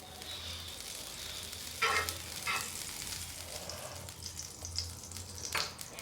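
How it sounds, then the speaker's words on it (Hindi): Desi ghee sizzles on a hot tawa with a steady near hiss and several louder bursts of spattering as it spreads, under a low background hum. "ये देखें तवा गर्म हो चुका है। इसके ऊपर मैं थोड़ा सा घी लगाऊंगी।"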